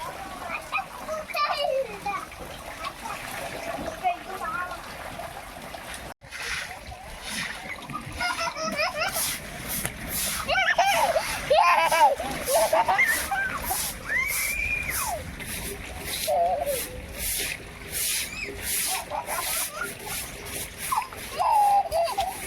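Water splashing and sloshing indoors in a rain-soaked, messy house, with irregular splashes building over the second half, while someone talks throughout.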